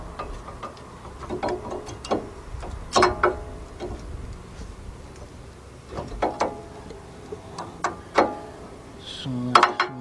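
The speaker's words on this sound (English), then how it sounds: "All right, so we're gonna put this brake pad into here." Brake pad being worked into the front brake caliper of a 2000 Dodge Ram 1500 van with a 3.9 engine, giving repeated metallic clicks, clanks and scrapes at close range in irregular bursts, with occasional speech.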